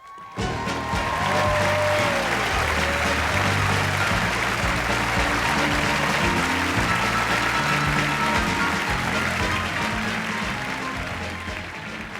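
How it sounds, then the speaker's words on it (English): Loud, sustained applause from a large audience at a 1993 televised comedy awards show, a dense steady roar of clapping that holds for several seconds and fades slightly at the end. "Thank you very much for that wonderful, warm round of applause."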